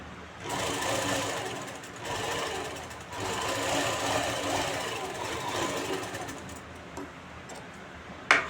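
Sewing machine stitching a cotton fabric sleeve for a Pakistani-style suit, running in a steady, fast, continuous whir of rapid needle strokes throughout, with brief pauses near the end and no talking.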